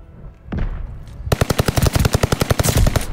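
Welgun submachine gun firing in Call of Duty Vanguard, with a rapid, loud, evenly spaced burst of automatic shots following a couple of softer preliminary sounds.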